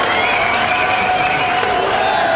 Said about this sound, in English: That applause.